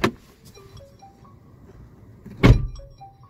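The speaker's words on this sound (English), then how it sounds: "That is closing with a little bit more of a thunk than my car does." A Renault Zoe electric car door shuts with a solid, close thunk, preceded by a fainter knock at the very start, with quiet background hum in between.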